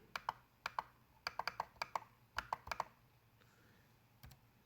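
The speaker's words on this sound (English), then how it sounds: "So just type in this box here" Fingers type a file name on a computer keyboard, a quick burst of crisp clicking keystrokes in short irregular clusters, close and fairly quiet, with a brief pause and a final few taps.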